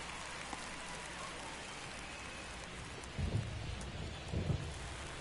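Steady rain hiss and soft rumbling thunder from a baseball game in MLB The Show, a continuous wash of rainfall with two low thunder swells near the end, no talking.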